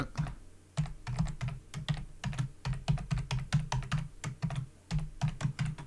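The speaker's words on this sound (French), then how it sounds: "Donc je tape un mot de passe." Rapid, uneven keystrokes on a computer keyboard as a password is entered, crisp close clicks in bursts with brief pauses, no voices.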